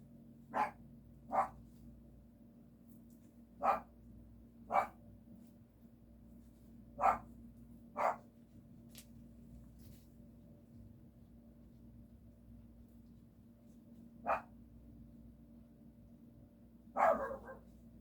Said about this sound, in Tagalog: So, meron pong aso po dito.